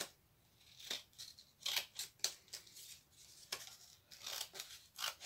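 Scissors snipping through material in a crafting session, a series of crisp, close cuts with small pauses between them, quiet and alone with no talk.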